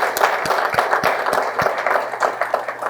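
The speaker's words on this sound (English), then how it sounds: "just collectively give them a round of applause for their service" An audience at a SECO Energy district member meeting breaks into steady applause, a dense wash of many hands clapping at a moderate distance with a few sharper individual claps standing out, continuing without pause.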